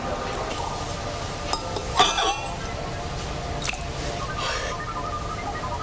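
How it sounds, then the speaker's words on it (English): A drinking glass dipped into hot water during a science demonstration: light clinks of glass and a wet squish or splash, with a few scattered taps over a steady background. "Pass her a glass, Tom, and I want you to dip it in the hot water."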